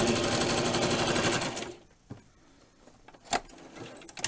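A sewing machine runs a straight stitch along a seam on a small Barbie doll dress, a fast rapid whirring for about a second and a half, then stops, followed by faint handling clicks.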